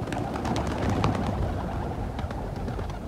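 Pigeons coo softly in a loft while people try to catch a new bird, a low murmuring call under a dense, busy background with repeated short notes spread across the stretch.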